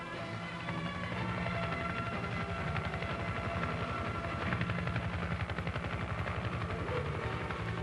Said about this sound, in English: As the attack helicopters approach their attack positions, the scout helicopter moves to where it can observe for enemy aircraft